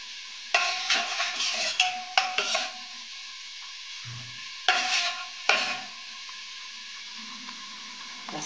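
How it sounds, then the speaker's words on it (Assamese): Fried fish pieces tipped into a pot of pumpkin curry and stirred: a few bursts of scraping and clattering against the metal pot over a low, faint sizzle, with quiet pauses between. "এতিয়া ইয়াতে মই ভাজি ৰখা মাছখিনি দি দিম।"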